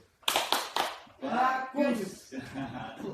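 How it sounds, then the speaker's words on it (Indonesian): A small group claps together in a classroom session, a few sharp bursts of applause followed by rhythmic patterned clapping, with a voice speaking over it. "Tepuk tangan untuk kita tepuk dulu"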